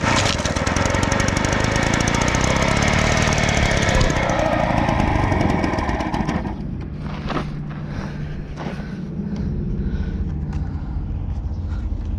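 A Husqvarna 130BT leaf blower engine runs loud and close after a troubled repair, roaring steadily at high revs for about six seconds, then dropping to a lower, rougher idle with a few irregular pops.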